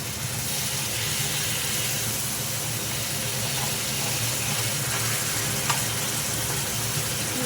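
Koi fish fry in oil after a little water is added, giving a dense, even sizzle and crackle close by, with faint scraping and occasional pops and no speech.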